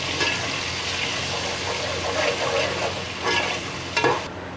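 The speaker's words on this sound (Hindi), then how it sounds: "इसको 1 मिनट के लिए इसमें फ्राई करेंगे और साथ ही मैं इसमें चिकन ऐड कर दूँगी।" Onions, garlic and ginger fry in a pan for a chicken masala. A steady, loud sizzle runs throughout, with scraping stir sounds and a few louder spatters near the end.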